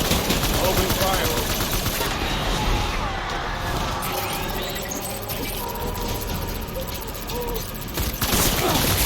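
Gunfire after an order to open fire, a dense, chaotic crackle of rapid shots filling the whole stretch, loud and continuous with faint voices mixed in.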